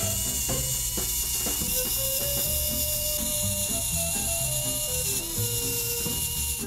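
Electric spinning lip scrub brush powered on, a steady mechanical whirring with ratcheting clicks running continuously and close, alone without talking.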